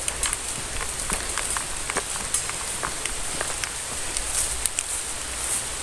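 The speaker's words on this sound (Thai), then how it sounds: "พี่น้องฝนมาค่อนใหญ่เลยนะครับตอนนี้ก็ลงเม็ดมาแล้ว" Heavy rain falls in big drops outdoors near rambutan trees, a close, crackling patter of many individual hits over a soft continuous hiss that holds steady throughout.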